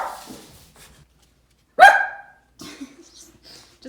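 A dog gives one sharp, loud bark indoors, followed by a few softer huffs and faint sounds in an otherwise quiet room.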